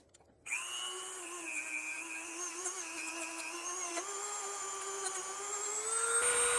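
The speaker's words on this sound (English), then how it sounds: "we're just going to go in here with our Dremel and kind of clean this up a bit" A Dremel rotary tool whirs steadily as it cleans crud from a car's coolant crossover pipe near the O-ring seat, starting abruptly after a brief silence and holding a constant high-pitched spin that rises slightly in pitch and loudness toward the end.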